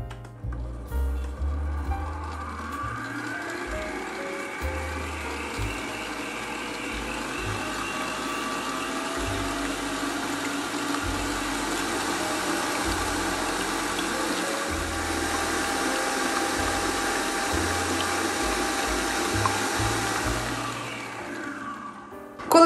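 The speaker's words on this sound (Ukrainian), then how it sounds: "Починаю з низької швидкості, поступово збільшую до середньої і збиваю 1 хвилину." Electric mixer with a whisk attachment beating meringue at medium speed, a steady continuous whirring drone with low rumble, fairly loud and unbroken for the whole stretch, no talking over it.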